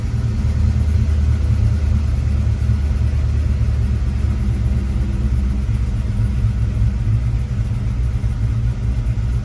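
The V8 of a 1995 Chevrolet Impala SS revs up on its own with the throttle untouched, a loud, close, deep rumble holding steady throughout with no talk.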